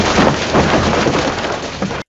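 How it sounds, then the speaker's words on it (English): A synthetic sound of ice shattering across a car hood: a dense, loud spray of crackling and clattering fragments runs without a break for about two seconds, then cuts off abruptly. "Ice shattering all over the hood of a car."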